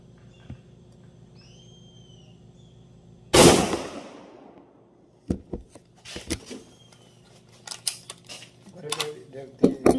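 A single sharp, loud report from an M1 Carbine .30 rifle at a shooting range rings out with a decaying tail, followed by clicks and handling noises and bursts of nearby talk.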